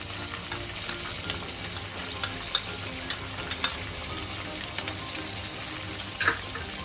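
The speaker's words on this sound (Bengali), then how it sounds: "দিয়ে দিলাম আদা রসুন পেস্ট" Ginger-garlic paste fries with prawns in a hot pan, a constant low sizzle broken by sharp little pops and spatters that recur at uneven intervals, close by and without voices.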